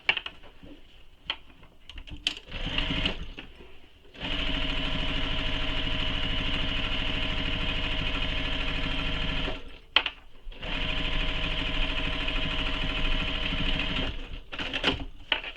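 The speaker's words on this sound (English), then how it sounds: "Row of stitching." A sewing machine stitches a row on a tote bag, starting with a few short bursts and then running in two long, steady, whirring runs of rapid needle clatter with a brief pause between them.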